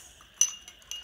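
Corn kernels stirred in a glass of water make a few light clinks against the glass, close and bright, two sharper taps standing out from faint rattling in a quiet room.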